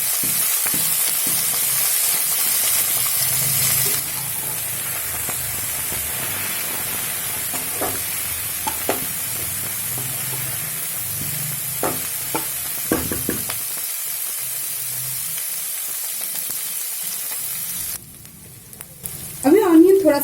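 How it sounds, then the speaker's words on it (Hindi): Onions and green peas frying in a pan, a continuous hiss of sizzling oil with scattered stirring clicks and scrapes throughout, ending in a brief louder clatter. "अभी ऑनियन थोड़ा सा फ्राई हो गया है"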